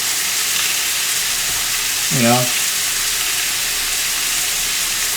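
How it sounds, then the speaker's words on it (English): A buttered bun sears on a hot surface for a Philly cheesesteak, giving a steady, close, even sizzle with one brief squeaky chirp partway through and no talk. "take some of that butter and just butter that bun with it. Alright, you know what I mean? So that when we cook it, or when we sear it"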